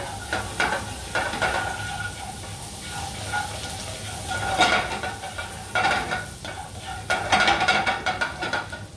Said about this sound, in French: Je vais mettre les échalotes.